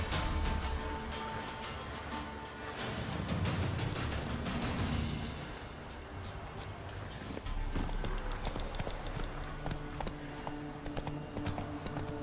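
Roach the horse in Witcher 3 trots with steady clip-clopping hooves, continuous and moderately loud over ambient game background, without speech.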